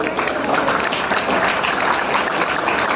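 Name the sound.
audience applause welcoming performers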